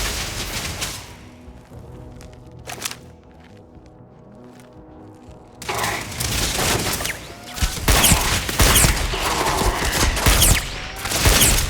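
Turret gunfire in the game Starfield, starting with a quiet stretch of scattered shots and then breaking into loud, dense sustained bursts for the last half.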